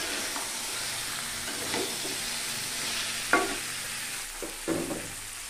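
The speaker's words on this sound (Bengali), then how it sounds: "সমস্ত মশলাটাকে একটু নেড়ে চেড়ে মিশিয়ে দিব" A spatula stirs spices and peanuts in a sizzling frying pan for a pumpkin chokka dish, a steady frying hiss broken by a few sharp scraping and clinking knocks near the middle and end.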